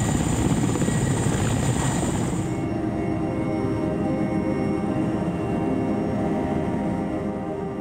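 A helicopter flies during an on-site inspection field exercise, its loud continuous rotor and engine roar close and steady, with a high whine dropping away partway through.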